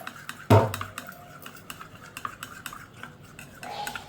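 A spoon stirring honey and lemon juice in a small bowl: one loud clack against the side, then a run of light, rhythmic scraping and tapping, close by, with faint background noise.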